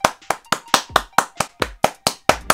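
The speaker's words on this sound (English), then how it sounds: "Listen, boys, round of applause for Toby." One person claps about a dozen times in a steady, even rhythm, each clap sharp, close and isolated, a round of applause for a contestant, with no talking.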